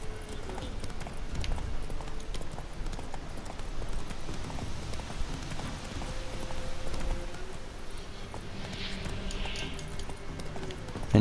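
Horse hooves gallop in The Witcher 3 video game, a rapid, steady clip-clop that runs without a break under a constant layer of game background noise.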